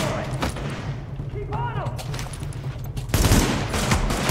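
Gunfire from hostile enemies in the shooter video game The Division, bursts of rapid shots under a steady low drone, growing louder and denser toward the end as the firefight intensifies.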